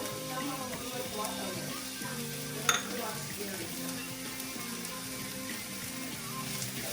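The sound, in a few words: shallot frying in a pan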